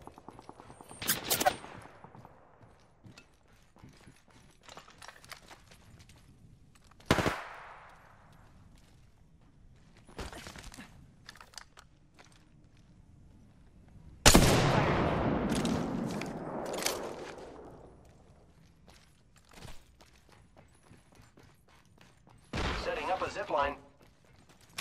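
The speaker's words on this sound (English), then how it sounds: "Getting shot at." Bursts of rapid gunfire in a battle royale video game, several separate volleys spread across the stretch with quieter gaps, near and loud, with game voice callouts and a player talking in between.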